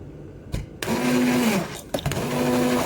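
Blender whirring while blending ingredients for a liver cake, starting and stopping in short bursts, with a steady motor hum that shifts in pitch as the load changes.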